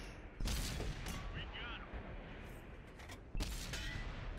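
Two loud, booming tank cannon shots in World of Tanks on console, firing from an AMX 50 B, one near the start and one late, with rumbling battle noise between them.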